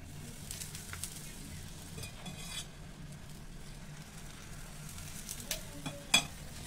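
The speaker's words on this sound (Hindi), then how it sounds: "बस दूसरा पराठा डाल देंगे फिर इसके चारों तरफ घी डालेंगे" A triangular paratha fries in ghee on a pan with a soft, quiet sizzle, joined by a few light utensil clinks and scrapes near the end.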